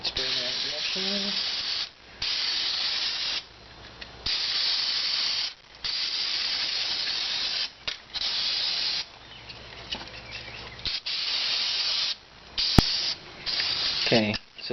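Spray cleaner hissing onto a 1987 Mustang GT rear drum brake during a brake job, in repeated bursts of about one to two seconds separated by short pauses, close and loud.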